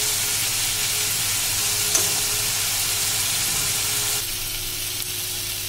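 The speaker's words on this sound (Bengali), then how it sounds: "মশলাটাকে আমি কষিয়ে নেব।" Spice masala being sautéed in oil for soybean paratha gives a loud, even sizzle with a faint steady hiss and one brief clink. The sound softens a little near the end, and nobody speaks.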